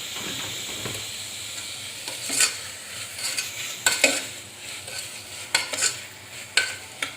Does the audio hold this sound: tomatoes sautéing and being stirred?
yes